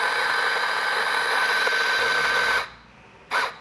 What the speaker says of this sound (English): I'm going to check the grind time, see how long it takes to grind